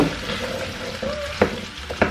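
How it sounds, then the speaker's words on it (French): A saucepan is emptied into a dog's bowl, with soft scraping and stirring against the metal and two sharper knocks near the end, close by and with no talk. "vides la casserole dans la gamelle de Hopi"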